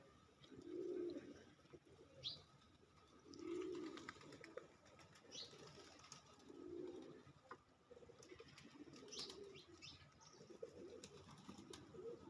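A flock of pigeons coos softly in repeated low, rounded phrases spaced a few seconds apart. The calls are faint, with scattered light chirps and rustling in the background.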